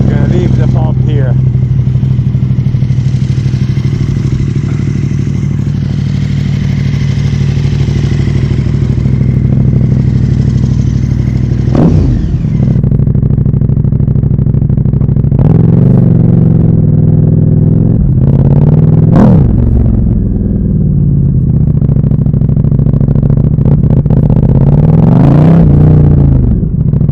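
A motorcycle with a keyless fob ignition starts and then idles loudly and steadily close by, with a deep low rumble and a few short throttle blips near the end.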